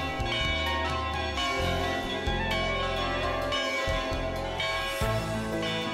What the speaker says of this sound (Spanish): saturaban el aire con el repique lejano de sus campanas